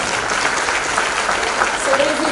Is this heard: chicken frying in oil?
no